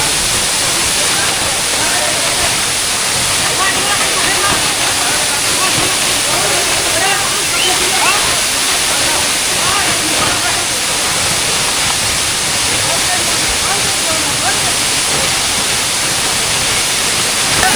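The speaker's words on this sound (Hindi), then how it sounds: "मैं इस वक्त बिल्कुल ब्रूटी वाटरफॉल के सामने हूँ" Bruti waterfall in the Margalla Hills near Islamabad roars as a loud, steady, broadband rush of falling water heard up close, with faint voices of visitors mixed into the noise.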